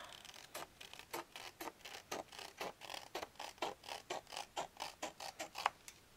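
Scissors snip through paper flaps along a score line on a 6-inch square scrapbook album, making a close, quiet series of rhythmic crisp cuts, roughly two per second.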